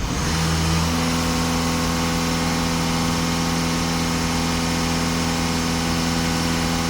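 A Volkswagen Passat engine, B7 or B8 generation with an EGR fault, idles steadily at close range, a constant even hum with a slight roughness after a brief initial flutter, no talking.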